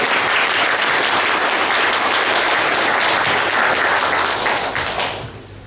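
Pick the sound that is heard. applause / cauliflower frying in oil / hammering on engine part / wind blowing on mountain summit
applause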